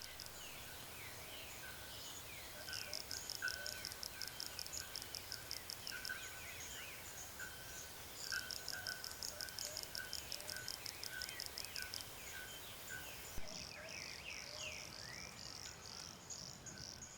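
Male frogs call in the Atlantic Forest as a dense chorus of rapid, pulsing trills and chirps in repeated bursts, steady and moderately distant over constant forest ambience.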